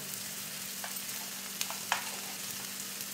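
Vada pav potato filling with chili, coriander and ground masala is sautéed in a pan, making a steady, soft, hissing sizzle with a couple of faint stirring clicks, close and continuous.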